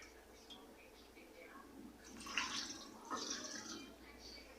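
Sugar stirred into filtered water for homemade apple cider vinegar: a soft, steady watery swirl that ends in two brief, louder sloshing surges near the end.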